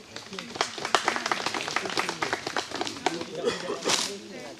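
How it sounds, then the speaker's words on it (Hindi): A group of people claps in sharp, uneven bursts outdoors in the Sousar range of South Chhindwara, loud and close at first, then tapering off as voices talk over and after the clapping. "तालियां भाई तालियां।"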